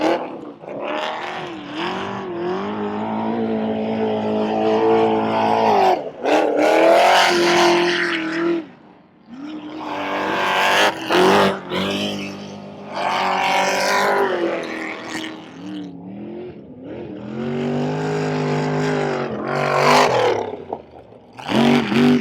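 Off-road race vehicles at an LS Fest event, their engines roaring loud and close in repeated revving surges that rise, fall and cut out between bursts as they race and jump.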